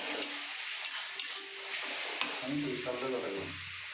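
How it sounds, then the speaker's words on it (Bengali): Masala spices for paneer fry in hot oil, a dense, bright sizzle broken by sharp scraping stirs in the first half before the sizzle settles and softens, close up and loud. "মশলাটা পুরো ভাজা হয়ে গেছে, কালারটাও সুন্দর এসেছে"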